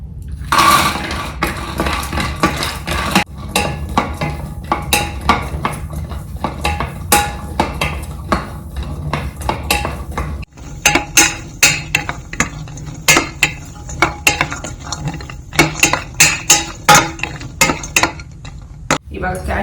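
Cashews frying in a pan are stirred with a utensil, sharp metallic scrapes and taps repeating close by over a low steady background sizzle, with no voice heard.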